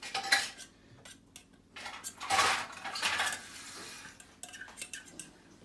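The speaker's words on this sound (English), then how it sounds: "give all that a good stir. Mix it all up." Dog food for a 7-month-old Rottweiler is stirred in a bowl with a metal spoon, giving irregular close clinks and scrapes that come in clustered bursts, with no talking.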